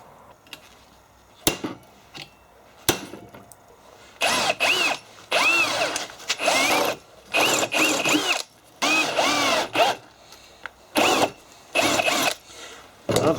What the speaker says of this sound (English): I drill.